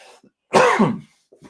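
A single harsh, rough cough burst, close and fairly loud, preceded and followed by brief quiet throat sounds.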